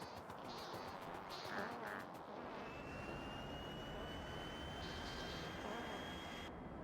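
A plane's engine in the video game Factorio gives a steady, dense roar that holds throughout, with a thin rising whine over it and a few brief chirpy blips early on.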